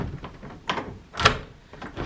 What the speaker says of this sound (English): Door handle, real smooth.